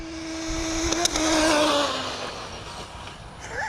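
ZD rally RC car with a 24 tooth pinion screams at full throttle, a high whining motor tone that rises and sweeps past, loud and close, with wind noise and no talking.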